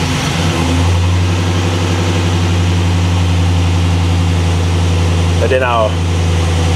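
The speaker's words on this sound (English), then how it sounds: "Alright, so I'm gonna let it idle down." An LS-swapped G-body car with factory air conditioning idles loudly and steadily up close, a deep even rumble throughout, with someone speaking briefly over it near the end.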